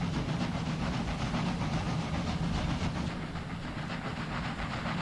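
A locomotive under way in the Railway Empire game makes a continuous droning rumble with a hissing, steam-like wash over it. The sound stays steady and fairly loud with a slight dip near the end, and no voices are heard.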